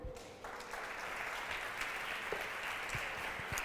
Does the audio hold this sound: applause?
yes